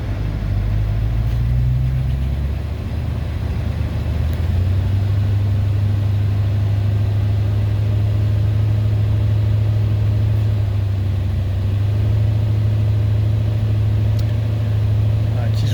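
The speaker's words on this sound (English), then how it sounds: "gonna try to start it as I accelerate the gas" A 1969 Lincoln Mark III with a starting fault, gas pedal pressed while the engine is cranked in a garage: a loud, steady low mechanical drone whose pitch steps up partway through, continuing without a break.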